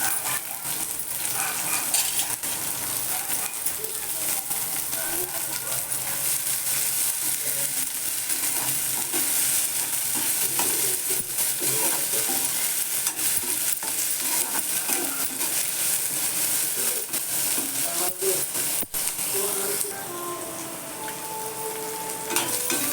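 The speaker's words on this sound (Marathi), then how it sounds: "कांदा शिमला मिरची कोबी सगळं एकत्र छान फ्राय होऊ द्यायचं" Onion, capsicum and cabbage fry together for veg Hakka noodles, making a continuous moderate sizzle with scattered clinks of a spoon against the pan and no talking.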